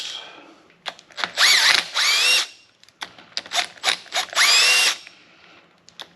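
Cordless impact tool loosening nuts on a damaged Model B Ford, loud close bursts of whirring and rapid hammering in several pulses, with short pauses and clicks between them.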